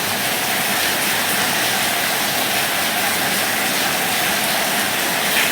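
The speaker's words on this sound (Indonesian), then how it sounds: "Makassar sekarang selalu hujan" Rain falls steadily during the rainy season in Makassar, a loud, even broadband hiss that holds unchanged throughout with no clear voices.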